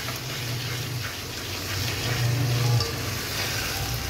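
Capsicum cooking in a pan for a chicken lasagna filling, giving a steady, moderately loud sizzle and fry hiss that swells slightly midway and continues without pause.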